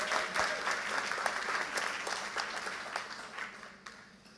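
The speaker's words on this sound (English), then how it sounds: "One more round of applause for Matthew being a good sport." Audience applause for Matthew at a school board meeting, a moderate crowd clapping steadily and gradually thinning out over a few seconds.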